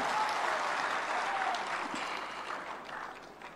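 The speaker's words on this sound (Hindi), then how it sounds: "एक बार जोरदार तालियां उनके लिए बजाएं" A large crowd at a Haryana state-level Panchayat Sammelan in Panchkula applauds the chief minister, a broad, even wash of clapping that holds steady and then slowly tapers.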